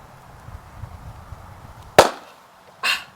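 After a quiet, faintly rumbling stretch, a shaken bottle of vinegar, water and baking soda bursts with a sharp loud pop, followed about a second later by a second, softer hissing burst.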